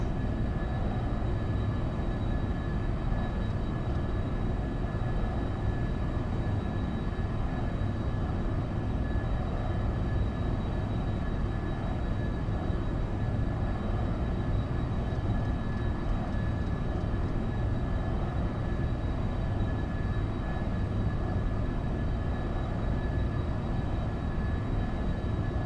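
Boeing 707-120B jet engines roar steadily through a takeoff in the X-Plane 12 flight simulator, a dense, constant rumble with high whining tones, loud and unbroken throughout.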